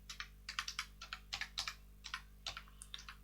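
Quiet typing on a computer keyboard, a steady run of light, close keystroke clicks in short clusters with brief pauses.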